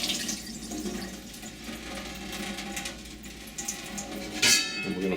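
Running tap water pours steadily over hominy being rinsed in a kitchen sink, a continuous splashing wash with a brief louder gush near the end.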